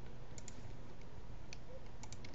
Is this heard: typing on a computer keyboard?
yes